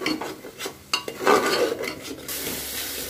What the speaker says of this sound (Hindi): मिला लेते हैं 2-3 मिनट तक ताकि मसालों के साथ टमाटर भी अच्छे से